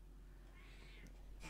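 A cat meows once in a fantasy game set in a village lane in The Lord of the Rings Online, a faint, short cry over quiet ambient background, followed by a brighter burst at the end.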